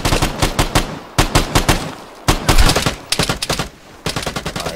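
Bursts of automatic gunfire in the video game Vigor, an enemy firing an ADR rifle, with several rapid volleys separated by short pauses, loud and close.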